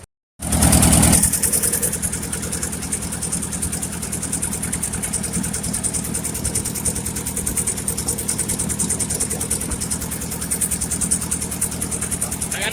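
A 1958 Ford 851 tractor engine starts and settles into a steady idle, a loud continuous rumbling chug with an even mechanical rhythm that holds unbroken throughout, close by with no talk.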